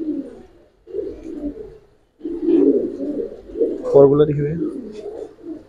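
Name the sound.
pigeon cooing, Giribaz pigeon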